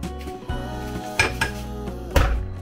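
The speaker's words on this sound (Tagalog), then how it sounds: "Itong hot water, pinapatulo yan, tapos ilagay dyan na yung hugasan mo, tapos ibabrush mo siya." Dishes being washed by hand under dripping hot water and scrubbed with a brush, with clattering pots, plates and cutlery clinking in uneven bursts close by.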